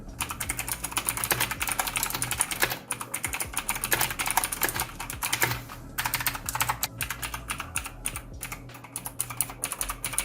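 Rapid, clicky typing on a NightSilver Astra blue-switch mechanical keyboard, with crisp keystrokes in quick bursts and a few brief pauses, close to the microphone.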